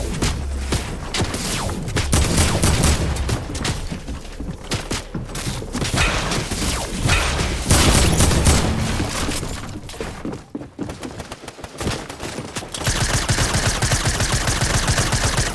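Gunfire in the video game Fortnite is loud and nearly continuous, with rapid volleys of shots and impacts layered densely throughout and no talking heard.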